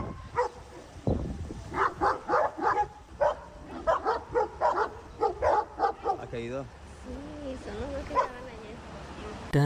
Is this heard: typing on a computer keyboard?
no